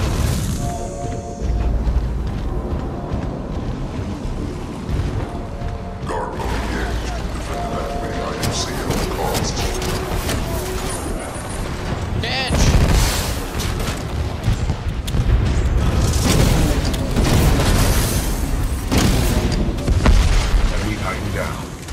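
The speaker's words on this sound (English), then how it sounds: "The missile noise is so good" Missile explosions in Titanfall 2 pound out in a dense, continuous barrage of loud booms and bursts with mechanical game noise, swelling louder in the second half, with a voice talking intermittently underneath.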